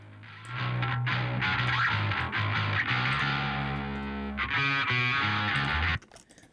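A distortion channel played on its own in a song mix gives a gritty, buzzing wash over a sustained low bass line for several seconds before cutting off abruptly, loud and without any voices.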